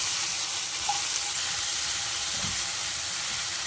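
Masala sizzles steadily while being sautéed in a pan, with prawns to come, a continuous soft frying hiss with a faint stirring scrape, no one speaking.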